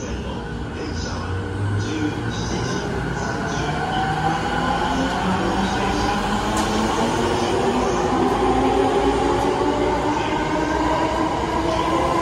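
A JR East E231 series Musashino Line train runs through Kita-Asaka station, its steady rolling rumble and wheel noise close and continuous, with a faint squeal and a rising motor tone that builds throughout.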